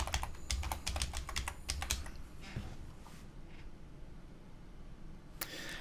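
Fingers tap out a short word on a computer keyboard in a quick run of close, crisp keystrokes, followed by a near-silent stretch and one final click.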